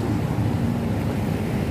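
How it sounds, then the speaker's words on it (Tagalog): Strong waves surge and wash continuously onto a sandy shore of Manila Bay, a steady loud roar with wind buffeting the microphone throughout. "malakas nga yung alon"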